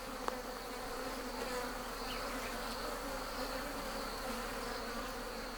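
Bees swarm around a wild honey nest in the Kenyan bush, their buzzing forming a dense, steady drone close by with no voices.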